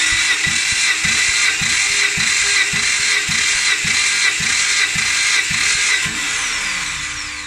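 A 2009 Mitsubishi Outlander XL's 3.0-litre 6B31 engine cranks on the starter during a compression test on the first cylinder, a steady loud whine with rhythmic chugging pulses about three per second that slow and fade near the end.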